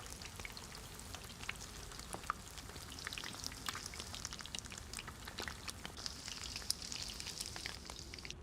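Food sizzles over a campfire in the survival game DayZ, a faint, steady crackle with scattered pops and spits running unbroken throughout.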